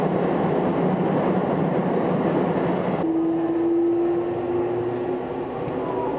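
A JR Keiyo Line rapid commuter train bound for Soga rumbles steadily along the rails, with a rising electric motor whine emerging halfway through over the constant running noise.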